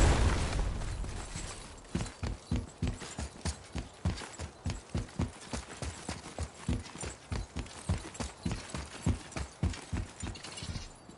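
Horse hooves clip-clop in a steady, brisk rhythm in a video game, each hoofbeat sharp and evenly spaced, continuing throughout at moderate volume with no talk.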